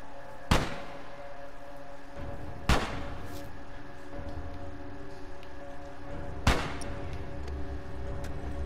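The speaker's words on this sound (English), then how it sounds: "that guy shooting from behind me" Three sharp gunshots crack in a shooter game set in a capital building, spaced a few seconds apart over a low, steady ambient hum.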